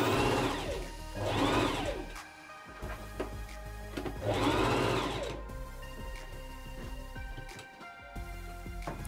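A sewing machine stitches a sleeve into place on an Anna Allen Clothing pattern garment, running in two sustained whirring bursts with a pause and lighter mechanical ticking after, close and clear.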